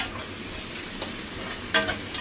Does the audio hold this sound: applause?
no